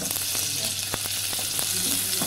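Close, continuous sizzling of whole garlic cloves frying in hot butter, with a few sharp crackles and clicks as it is stirred.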